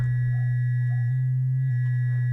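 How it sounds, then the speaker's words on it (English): An audio-rate sine wave from a Maca filter phase-modulating a T-Zed oscillator by La 67, giving a loud steady low drone with sweeping, chirping overtones as the modulation index rises. "we start hearing how that audio rate sine wave from the Maca filter is modulating the phase"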